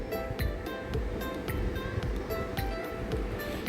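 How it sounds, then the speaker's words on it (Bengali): Radhuni seeds, bay leaf and slit green chillies fry in hot oil with a soft, constant sizzle and scattered small pops. The sound is quiet and even, with no one talking. "এবারে আমি ওই তেলের মধ্যে দিয়ে দিচ্ছি রাঁধুনি ফোড়ন, আর দিয়ে দিচ্ছি তেজপাতা আর চেরা কাঁচা লঙ্কা।"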